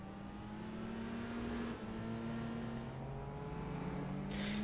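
A modded car in Gran Turismo 4 drones steadily under load, its engine note rising and sliding in pitch as it revs, loud and continuous throughout with no talking.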